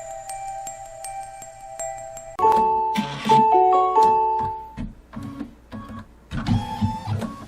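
An embroidery machine stitches fabric in place for a Kimberbell candy corn quilt, a loud steady mechanical whirring with quick rhythmic needle pulses after a few tonal beeps, with no talking.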